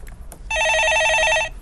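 A telephone rings for an incoming call on a live stock-market call-in broadcast, a single loud trilling electronic burst of about a second, following brief faint sounds.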